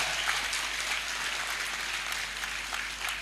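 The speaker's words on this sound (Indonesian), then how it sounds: "Tepuk tangan untuk para santri, luar biasa." Steady applause from a crowd of Islamic boarding school students at a religious gathering, a continuous wash of clapping at moderate distance with no pauses.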